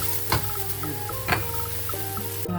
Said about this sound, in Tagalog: Pwede na igisa ang aking patola.